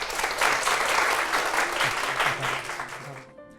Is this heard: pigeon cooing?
no